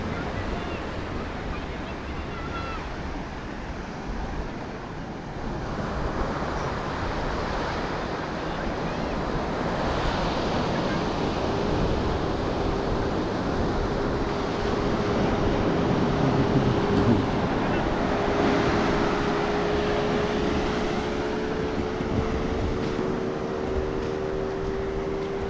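Ocean waves breaking at Mobor Beach, Goa, India: a continuous loud wash of surf mixed with wind buffeting, swelling slightly midway, with a faint tonal hum in the background.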